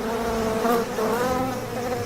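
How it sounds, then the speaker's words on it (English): A dense, continuous buzzing of many killer bees fills the air, steady and close, like a swarm hovering nearby. "Within seconds, the killer bees had found a new target."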